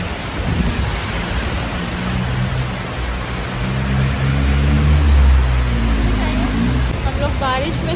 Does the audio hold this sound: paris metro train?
no